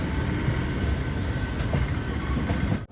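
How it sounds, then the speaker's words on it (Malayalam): A train rolls into Alappuzha railway station in Kerala, a steady loud rumble of wheels and carriages with faint clickety-clack, continuous and close until it cuts off at the end. "ആലപ്പുഴ റെയിൽവേ സ്റ്റേഷനിലേക്ക് ഇതാ ട്രെയിൻ എത്തിക്കൊണ്ടിരിക്കുക."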